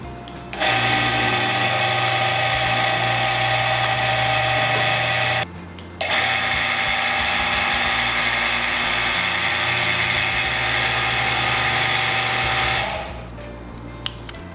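An electric sliding-gate motor runs with a loud, steady mechanical whine. It cuts out briefly for a moment, restarts, then winds down near the end.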